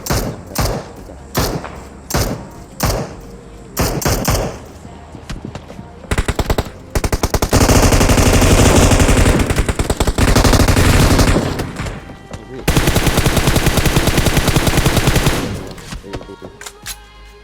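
Automatic weapons firing in PUBG Mobile on the Erangel map: loud close bursts of rapid shots, first short separate volleys, then long sustained strings of fire, trailing off into scattered thuds at the end.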